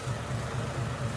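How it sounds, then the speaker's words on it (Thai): A car engine idles smoothly with a steady low hum and faint rhythmic pulsing, close by and alone with no talk, in a car fitted with air horns. "เสียงนิ่มมากเลยเครื่อง"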